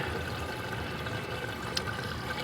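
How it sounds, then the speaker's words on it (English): Water splashes and trickles in an indoor goldfish aquaponics system, a steady, soft continuous pouring and burbling sound, moderately quiet and unbroken, with one brief sharper splash partway through. "There's quite a bit of splashing noise"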